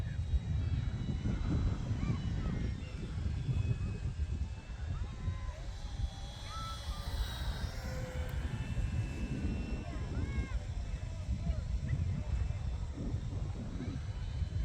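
An E-flite F4U-4 Corsair 1.2m electric RC model plane on a 4S 3200 battery drones steadily in flight on a windy day, a continuous broadband motor and propeller whine with gusty wind noise throughout.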